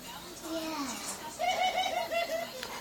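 Pigeons coo in a close, repeated series of soft throaty calls, with a voice and chatter heard over the birds.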